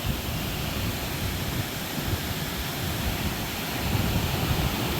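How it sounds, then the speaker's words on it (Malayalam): A waterfall close by, heard as a steady, dense roar of rushing, crashing water with a deep rumble, holding an even loudness throughout with no voices. "അപ്പോൾ നമ്മൾ വെള്ളച്ചാട്ടത്തിൻ്റെ അടുത്ത് ഇറങ്ങി"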